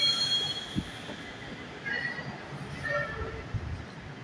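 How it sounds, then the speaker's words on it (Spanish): A train passes through Brooklyn, New York, its steady rumble broken by high, thin wheel squeals that flare and fade several times over a few seconds, with no clear talk over it. "El tren. Los trenes, señoras y señores."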